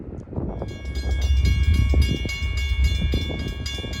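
A Norfolk Southern local freight train made up entirely of auto racks rolls past at Decatur, Alabama, a steady loud rumble with rail clatter and squealing metallic tones running through the whole stretch.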